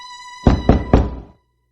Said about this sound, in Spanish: Llamé repentinamente a la puerta,